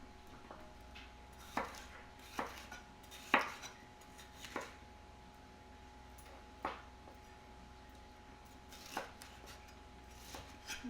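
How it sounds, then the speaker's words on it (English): Knife blade chopping yellow sweet pepper into chunks on a cutting board, about ten sharp, separate cuts spaced irregularly over a quiet kitchen hum, close and fairly soft. "we're going to chop this up as well"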